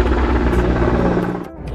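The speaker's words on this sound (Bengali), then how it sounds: "কত হেলিকপ্টার যাচ্ছে রে" A helicopter passes overhead with a loud, throbbing rotor drone that holds steady for a moment and then drops away sharply at the end.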